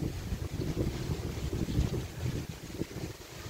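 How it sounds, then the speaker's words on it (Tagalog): Strong gusty wind at the onset of Typhoon Paolo in Kawayan, Isabela, roaring and buffeting the microphone in continuous low rumbling surges with no rain or voices. "Ngayon pa lang siya, may pahangin-hangin na ganyan"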